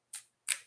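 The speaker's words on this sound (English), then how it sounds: "3 shuffles." Two quick riffle bursts of playing cards being shuffled, crisp and close, separated by a short pause.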